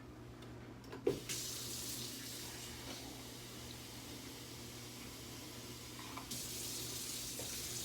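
Water pours steadily into an Instant Pot over noodles for beef bolognese, a continuous close hissing splash that starts after a brief clunk and runs the length of the clip without speech.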